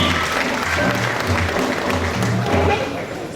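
An audience at a formal event introducing dignitaries gives a loud, dense round of applause that carries steadily and then starts to fade, with a voice talking over the clapping.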